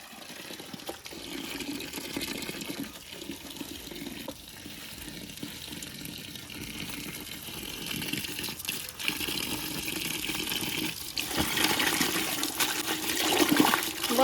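Tap water runs steadily into a sink while mustard greens are washed, a continuous close splashing that swells louder toward the end.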